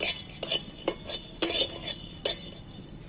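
Whole spices, cinnamon sticks and coriander seeds, dry-roasted and stirred in a pan, giving sharp metallic clinks and scrapes at irregular intervals over a faint steady hiss.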